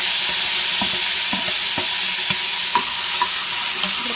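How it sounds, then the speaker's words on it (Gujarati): Tomatoes hit roasted peanuts frying in a pan, making a constant bright sizzle with irregular knocks and scrapes from stirring. "હવે આપણે એમાં ટમેટા એડ કરી દઈશું।"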